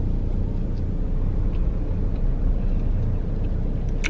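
Steady broadband road rumble and engine drone inside a car on a morning drive, continuous and fairly loud with no voices.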